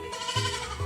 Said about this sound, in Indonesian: Kambingnya di sini umur 1 bulan, kambing PE umur 1 bulan